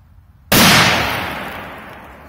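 A small Spanish Cracker 1 firecracker goes off with one sharp, loud bang after a moment of quiet, its blast ringing out and slowly fading over the next two seconds.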